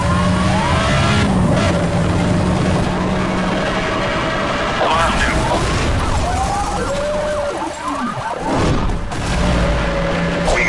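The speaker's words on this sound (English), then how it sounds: "suspect is driving aggressively." A car races aggressively through a police video game, its engine roaring loud and steady alongside wailing sirens and brief tire skids, a dense, continuous mix with no pauses.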